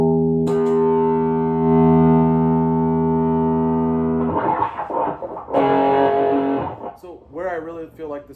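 An electric guitar played through a Drat distortion pedal rings out a sustained distorted chord, then chugs through short choppy riffs and bursts of notes.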